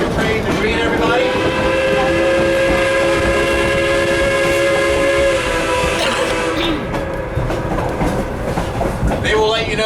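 A Durango to Silverton narrow gauge train rumbles steadily up close while its horn blows loud and sustained for about six seconds, then cuts off as the running noise carries on.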